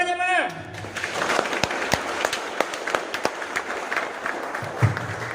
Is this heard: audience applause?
yes